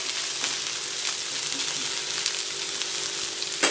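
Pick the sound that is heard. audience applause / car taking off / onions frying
onions frying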